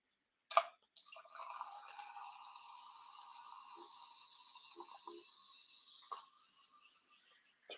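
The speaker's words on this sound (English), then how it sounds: "I'm just pouring some seltzer water" Seltzer water poured into a glass in a warm room, a sharp crack or fizz at the start followed by a steady carbonated hiss and trickle lasting several seconds, with a few small drips near the end, close and fairly quiet.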